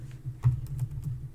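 Typing on a computer keyboard while a Linux text file is edited, giving a handful of soft close key clicks at an uneven pace over a low background hum.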